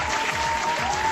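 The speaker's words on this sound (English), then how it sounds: "So another applause to that." Brief steady applause, like a small group clapping, during a live RC plane build session, continuous and moderately loud for about a second.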